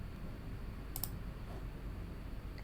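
A single quick mouse click on a computer, a short sharp tick against a quiet room hum, with no other sound around it.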